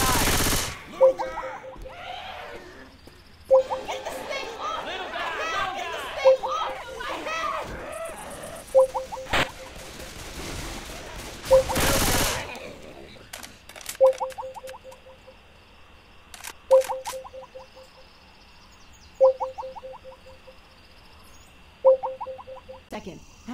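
Repeated bursts of gunfire in the zombie shooter game Left 4 Dead 2, Dead Center campaign, arriving as short sharp volleys every few seconds alongside game sounds and players talking over them.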